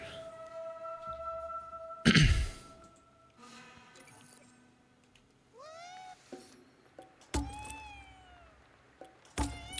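Cat meowing in the video game Ghostwire: Tokyo, several short rising mews spread out among game sound effects, including a sharp burst early on and a couple of clicks, fairly quiet overall.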